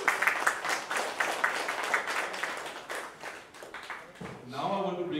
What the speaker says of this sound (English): A clap for Nadeem, please.